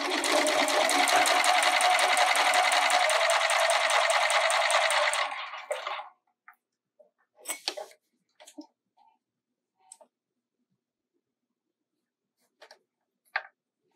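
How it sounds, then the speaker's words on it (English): A sewing machine runs a quarter-inch straight-stitch seam on a garment, whirring steadily and rapidly up close for about six seconds, then stops, leaving only soft scattered handling clicks and rustles. "I'm going to sew my quarter inch seam allowance"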